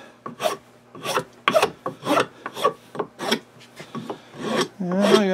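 A rasp works a wooden rifle stock from a Lyman Great Plains Rifle kit, about eight rough, scraping passes in a steady back-and-forth rhythm, close and fairly loud.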